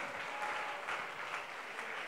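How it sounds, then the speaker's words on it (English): A church congregation claps their hands together in a dense, continuous wash of applause at moderate distance, steady across the whole stretch with no speech over it. "pwede ba natin ipalakpak ang ating mga kamay"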